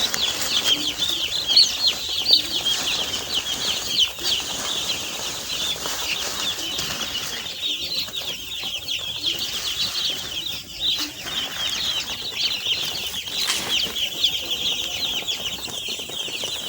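Chickens in a brooder, as the floor paper is lifted out, keep up dense, busy clucking and chirping with repeated bursts of wing flapping, loud and close throughout.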